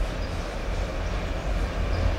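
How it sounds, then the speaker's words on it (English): An OC&T train rolls past with a steady, loud rumble of wheels and cars that fills the whole stretch without a break. "I heard the train coming"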